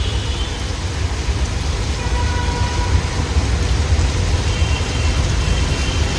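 Heavy monsoon rain pours down in Bombay, a dense, continuous hiss with a low rumble beneath, steady and loud throughout with no talk.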